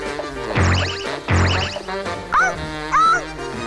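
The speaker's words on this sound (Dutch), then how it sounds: "En aan zijn blaf te horen is hij ergens heel erg blij om." A dog barks twice in loud, close bursts, followed by two higher, whining yips; no talking.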